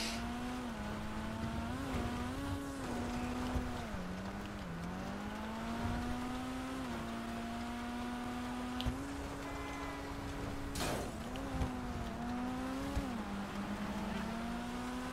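A car engine drones steadily as the car drives down a street in GTA V Online, its pitch rising and dipping with gear and throttle changes, continuous and fairly close, with a soft hiss underneath.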